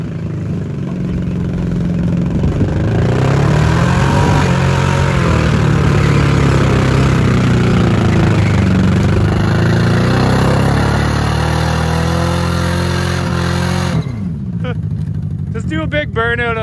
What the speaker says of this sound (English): Big burnout on that tire.